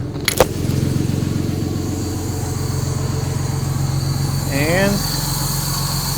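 A Jaguar Mark 2 engine with a fault that keeps it from revving past 3,000 rpm idles close and steady after a sharp click at the start, with a person speaking briefly over the smooth, even hum.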